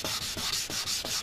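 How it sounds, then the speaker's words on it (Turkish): Sandpaper rubs over a sun-damaged, yellowed car headlight lens in quick back-and-forth strokes, about seven in rhythm, close and fairly loud, with no talk. "Bunları sırasıyla bütün zımparalarla yapacağız."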